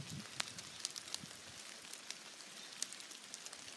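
Rain falling in a mossy bay tree forest, a soft, even hiss of drops on leaves and ground with occasional sharper nearby drips, quiet and continuous.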